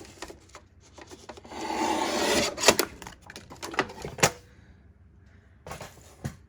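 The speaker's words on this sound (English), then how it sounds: "I find that the guillotine trimmer takes multiple layers off better and doesn't make them wonky." A guillotine paper trimmer slicing through several layers of card for handmade cardmaking, with a close, scraping blade stroke followed by sharp clicks and the rustle of card being handled.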